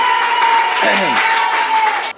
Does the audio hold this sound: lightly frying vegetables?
no